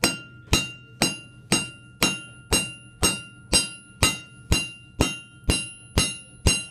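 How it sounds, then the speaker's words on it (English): A flat-faced hammer strikes a round metal rod being forged square, a dozen sharp, ringing blows in a steady, even rhythm about every half second, close and loud with no talk. "So you want to use a flat face hammer first, and you're going to start hammering on one side."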